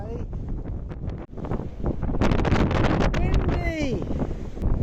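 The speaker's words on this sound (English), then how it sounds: "Windy!" Strong winter wind buffets the microphone at a beach in Sousse, Tunisia, a loud, continuous roaring rumble with gusts, and a voice briefly cuts through near the end.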